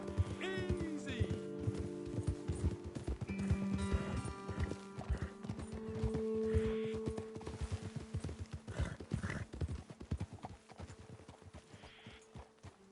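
Horses' hooves clip-clop in a steady walking rhythm on a trail in Red Dead Redemption 2, near and moderately quiet, with a brief whinny early on and voices talking over the hoofbeats.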